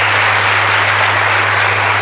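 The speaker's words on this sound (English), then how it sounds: "So big clap for them." At a pharmacy students' international conference, an audience gives continuous, dense applause, loud and even throughout, over a steady low mains hum.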